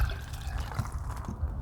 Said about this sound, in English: I'll pour a little bit of this in a clear glass.